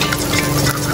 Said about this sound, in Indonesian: suara minyak goreng itu